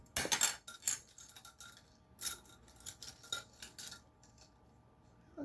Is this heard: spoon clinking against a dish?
yes